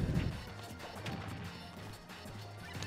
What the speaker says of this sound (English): Sandman loves to throw his forward smashes